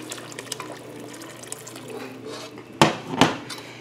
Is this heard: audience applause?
no